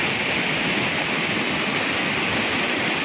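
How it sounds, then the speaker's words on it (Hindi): A flooded village river swollen by heavy rain roars with a dense, constant rushing of water, loud and unbroken throughout. "नदी का जो खौफनाक मंजर है आवाज़ के साथ।"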